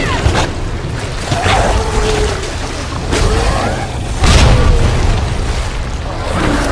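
A grenade detonating in the video game Resident Evil 2 Remake, a loud low boom standing out among other game sounds, with rumbling blasts recurring through the clip.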